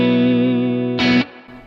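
Electric guitar played through a Kemper amp with a heavy reverb effect for praise-and-worship, a sustained chord with a brief louder strum, then a decaying reverb tail, loud and alone.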